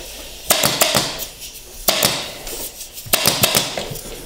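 Staple gun firing into upholstery fabric on a saddle seat, sharp close snaps coming in three quick clusters of two to four shots each.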